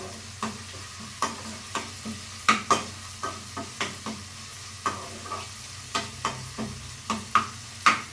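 Green chillies, cut into small pieces, frying in a pan for a brinjal yogurt chutney, a low steady sizzle under repeated sharp scrapes and taps of a spoon stirring against the pan.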